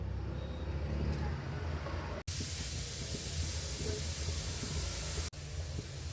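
Salted water boiling for soya chunks produces a continuous hissing, bubbling roar that swells louder in the middle stretch, with short breaks between segments.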